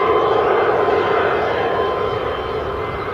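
Jet aircraft engine of the Dublin flight at Newcastle International Airport, a steady, loud broadband roar that holds constant throughout, fading slightly toward the end.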